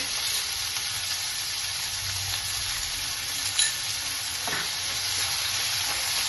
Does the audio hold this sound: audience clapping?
no